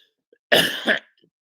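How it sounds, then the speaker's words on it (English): A single harsh cough flowing into throat clearing from someone with ragweed allergies, close and fairly loud, about half a second long against silence. "Ragweed allergies are kicking up down here, so sorry for the resounding amount of coughs."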